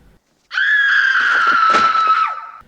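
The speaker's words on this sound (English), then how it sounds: "now you hear a scream" A woman's high, sustained scream in a horror film scene, one loud piercing cry lasting about two seconds after a brief silence, wavering and tailing off at the end.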